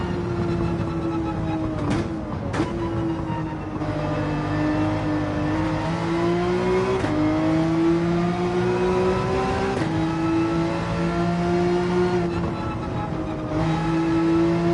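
A damaged race car in Gran Turismo 7 drives with a sustained engine whine that rises and dips through gear changes, loud and continuous, with no voices.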